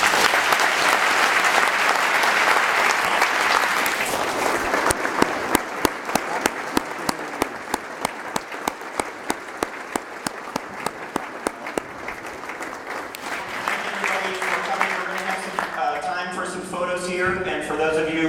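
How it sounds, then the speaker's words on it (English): An audience at a technology expo talk in Stockholm gives Steve Wozniak a sustained round of applause, dense at first and then breaking into distinct individual claps, with voices and chatter rising toward the end. "we'd like to give you a big round of applause"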